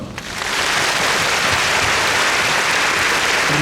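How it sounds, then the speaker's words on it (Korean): An audience at a Korean crossover vocal gala concert breaks into applause. The clapping swells within the first half second into a loud, dense, unbroken roar that holds steady to the end. "큰 박수로 함께 즐겨주셨으면 좋겠습니다"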